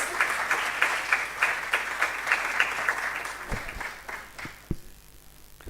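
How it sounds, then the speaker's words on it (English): Audience applause at a Noguchi Quality Week closing ceremony, a steady crowd of clapping that thins out toward the end, leaving a few isolated claps. "let's give her a round of applause"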